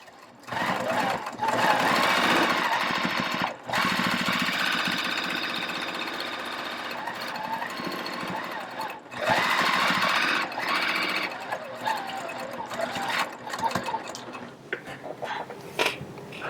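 A domestic sewing machine fitted with an Accustitch stitch regulator runs in loud sustained bursts of rapid needle clatter, pausing briefly between runs.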